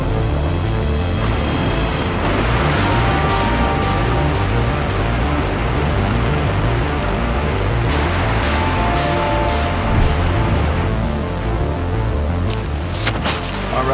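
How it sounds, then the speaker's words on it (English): Heavy rain pouring steadily on an outdoor saltwater fishing spot at a kayak tournament, a dense, loud, unbroken hiss of drops throughout with no voices. "Still raining pretty hard."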